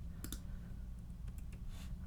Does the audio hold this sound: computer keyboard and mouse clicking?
yes